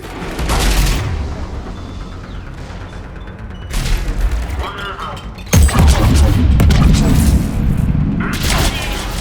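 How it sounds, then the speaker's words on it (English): Mortar fire and gunfire in the Mass Effect video game, loud heavy booms and crashing blasts with bursts of shooting that grow denser toward the end, with voices talking over the battle. "We're getting a lot of mortar fire."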